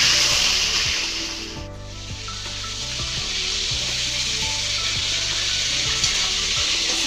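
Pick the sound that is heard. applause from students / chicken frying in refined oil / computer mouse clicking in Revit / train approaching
chicken frying in refined oil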